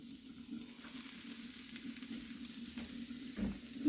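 Chopped cabbage frying in a pan for egg rolls gives a soft, steady sizzle with faint crackles and a low hum, fairly quiet and close, no voices.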